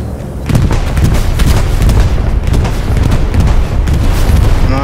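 Heavy explosions from a bombing run in the World War II shooter Hell Let Loose, on the Kursk battlefield, rumble as a loud, continuous barrage of deep booms rolling over one another with crackling debris, with no talk over it.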